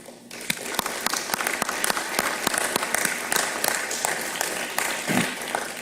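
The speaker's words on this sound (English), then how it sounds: "Let's give them a big round of applause." A crowd at a police department swearing-in ceremony breaks into sustained applause. The clapping is dense and fairly loud, with sharp individual claps standing out and a brief low voice near the end.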